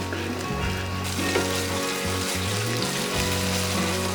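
Onions fry with ginger garlic paste for a vegetable navratan korma gravy, a steady wet sizzle and bubbling under a low continuous hum, moderately loud and unbroken, with no talking.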